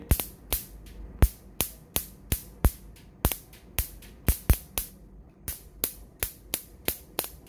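A repaired electric mosquito bat fires a rapid series of sharp zapping cracks, irregularly spaced and loud at close range over a faint electrical hum.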